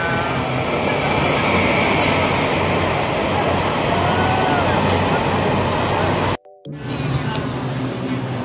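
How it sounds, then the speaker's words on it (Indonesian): A train pulls into a station in Taiwan with a loud, continuous rumble and rolling wheel noise, brief squeal of brakes, then a short abrupt cut before the steady running noise resumes; faint voices mix in. "Keretanya sudah datang. Kita saatnya naik kereta."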